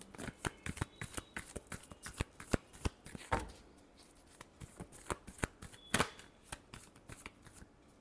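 Tarot cards shuffled by hand in a quick riffling rhythm, a close series of crisp flutters and slaps with brief pauses between bursts.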